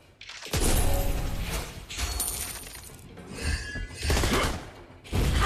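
Rapid bursts of gunfire from the hero Clint in the Mobile Legends mobile game, loud and repeated in several volleys with crashing impacts between them, with no talk over it.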